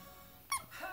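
A squeaky toy chewed by a two-month-old black and tan Norfolk Terrier puppy gives one short, bright squeak, close and fairly loud against a quiet room, followed by a softer rising squeal.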